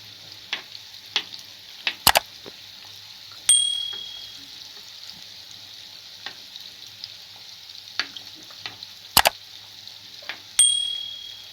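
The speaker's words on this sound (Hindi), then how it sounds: "अच्छे से फ्राई हो गया देखिए मावा खाजा" Mawa khaja pastries fry in ghee over a slow flame, a steady close sizzle broken by a few sharp clinks of a utensil against the pan, with no talking.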